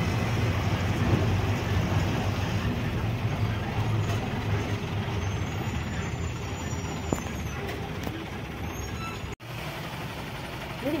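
A big truck rumbling along a road, a loud, steady low engine drone that fills the scene for several seconds before cutting off abruptly.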